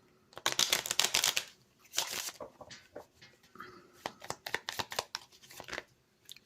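Oracle cards being handled, shuffled and drawn during a reading, quick papery riffling and flicking in uneven clusters, close and fairly soft, with no talking.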